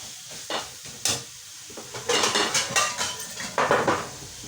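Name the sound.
ground pork being added and stirred in a pan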